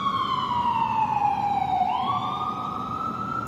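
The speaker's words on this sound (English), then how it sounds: "so they had to do more APE. Sorry for the sirens, but I'm in New York." A police siren on a New York City street sweeps down and back up in pitch, loud and steady, with constant traffic-like noise underneath.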